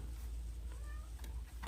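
A house cat meows faintly in the background of an indoor room during a TV streaming-stick setup, a thin, brief call barely above a steady low hum.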